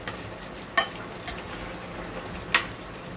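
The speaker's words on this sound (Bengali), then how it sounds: "একটু নাড়াচাড়া করে নেব।" Spoon stirring a sweet-sour pickle with fried spices in a pan, a few scraping clinks against the metal spread over a quiet background, near and without talk.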